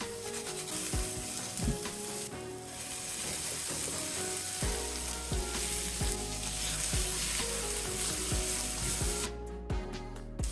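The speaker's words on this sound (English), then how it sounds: "heat your wok on high and add the aromatics with the tofu pieces and saute till golden" Tofu pieces and aromatics sautéing in a wok over high heat, a continuous close sizzle and frying crackle under a repeating rhythmic percussive beat, with no talking.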